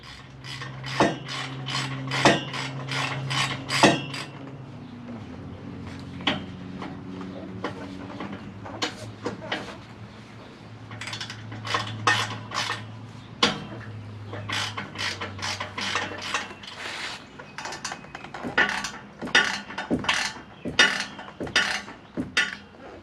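A ratchet wrench clicks rapidly in repeated bursts while 14mm bolts are threaded in on the exhaust of a 2020 Toyota Tundra, with metallic clinks and a low hum underneath, close and loud.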